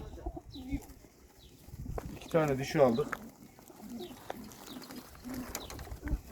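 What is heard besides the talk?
pigeons cooing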